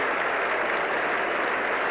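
A cricket crowd at The Oval applauding Kallicharran during a 1975 World Cup one-day match against Australia, steady dense clapping spread across the ground, continuous and moderately distant.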